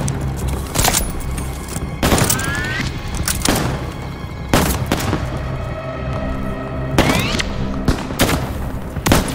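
Bursts of short-range gunfire from a Call of Duty Vanguard battle in Operation Tonga, sharp loud shots repeating in clusters over a dense, rumbling wartime background with no talking.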